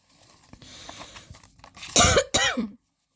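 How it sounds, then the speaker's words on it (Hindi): Two loud, harsh coughs burst out close by after a stretch of quiet murmuring background noise, then silence. "मेरी खांसी का क्या करूँ यार"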